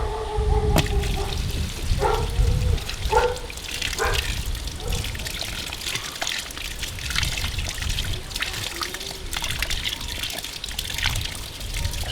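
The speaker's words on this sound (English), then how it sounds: "I'm unscrewing the tap." Water gushes and splashes steadily from a tap as it is unscrewed, with clinks and knocks of metal early on, close and continuous throughout.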